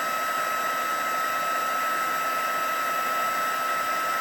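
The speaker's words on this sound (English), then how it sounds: "While it's heating up, I'm going to heat my embossing powder." A handheld heat tool blows a steady, loud whooshing hum while melting embossing powder on a snowflake card, unbroken and alone with no talking.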